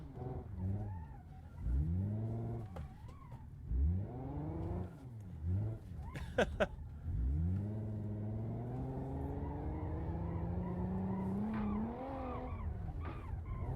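A badly damaged car in the BeamNG.Drive racing game, its suspension wrecked, revs and struggles in repeated rising engine surges with some tire squeal, loud and continuous, with no speech.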